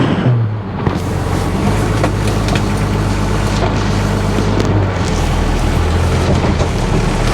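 An old Toyota pickup driving off-road in two-wheel drive, its engine a loud continuous rumble mixed with rattling and road noise from inside the cab, steady with no pauses.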